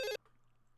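A telephone rings once during a call, a short bright electronic ring that stops abruptly and is followed by quiet line hum.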